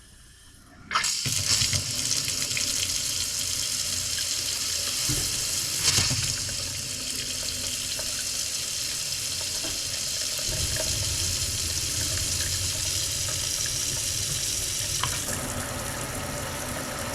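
Newly installed kitchen faucet in an Alaska cabin runs water into the sink, starting with a clear turn-on then a steady, loud, continuous rush and splash that persists throughout, shifting slightly in tone midway.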